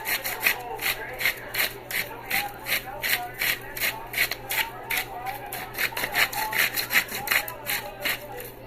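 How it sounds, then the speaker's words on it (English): A manual pepper grinder, prone to jamming, grinds peppercorns in a home kitchen with a steady, rapid run of gritty scraping strokes, loud and close, continuing for several seconds. "I don't know why this grinder jams up"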